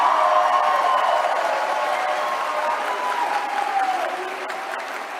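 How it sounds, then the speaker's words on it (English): Audience applause at CPAC 2021 in Orlando, a dense, steady wash of clapping from a large crowd at a political conference, loud and sustained, easing slightly toward the end with a few scattered cheers. "Yeah, you can clap for the president."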